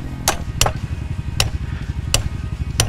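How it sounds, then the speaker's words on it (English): Hammer blows on a dirt bike's bent rear brake, five sharp metallic strikes spaced unevenly over a steady low engine idle, close and loud, no talking. "I got a hammer."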